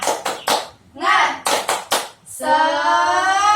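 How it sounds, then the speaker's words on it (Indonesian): A school class claps a short rhythmic spirit-clapping pattern of sharp hand claps, then a chorus of children's voices shouts together in unison. "kita tepuk semangat dulu yuk"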